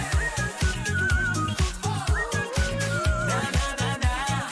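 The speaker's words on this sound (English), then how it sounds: "And that whistle." Whistled melody in a K-pop boy group song, sliding pitched tones over a punchy, rhythmic beat with heavy bass hits, loud and up front in the mix.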